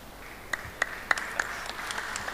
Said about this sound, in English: Round of applause. Let it come.